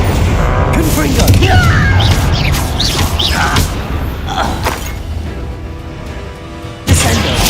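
A Confringo blast in Hogwarts Legacy erupts amid chaotic combat, with loud booming crashes and magical effects overlapping voices, then a fresh sharp impact near the end.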